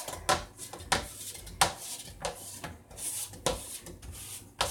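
Homemade pizza dough being kneaded and pressed out in a pan that spins as it is worked: close, rhythmic rubbing and dull thumps with light pan clatter, repeating every second or so, with no talking.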